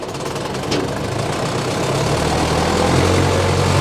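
A 1979 John Deere 310A backhoe loader with a 62 HP diesel engine running steadily, a loud, close, continuous low rumble with a knocking tone throughout.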